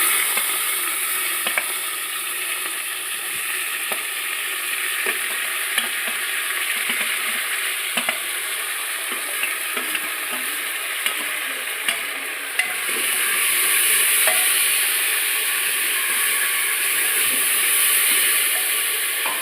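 Vegetables frying in a pan with coriander and curry leaves, giving a continuous bright sizzle and hiss with occasional stirring clicks, getting a touch louder partway through.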